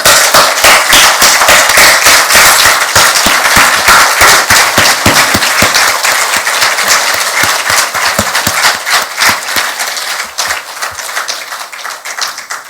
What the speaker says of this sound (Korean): 기립박수를 보낼 것을 제의합니다